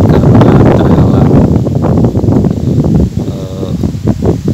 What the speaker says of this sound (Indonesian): daunnya kena angin.